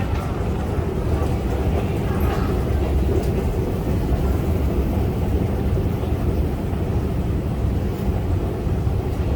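A Montreal Metro train runs steadily with a loud, continuous rumble and roar that holds level throughout, with no voices over it.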